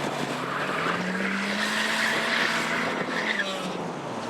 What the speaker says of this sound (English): We have the Corolla and the S15. Naturally aspirated.